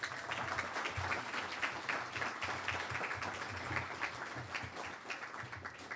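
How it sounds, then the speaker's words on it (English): Audience applause at a 2023 internal medicine residency graduation ceremony, a steady, dense wash of clapping lasting throughout with a low hum underneath and no voices. "let's give our friends and family another round of applause"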